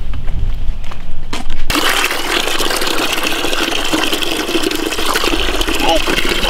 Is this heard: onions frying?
no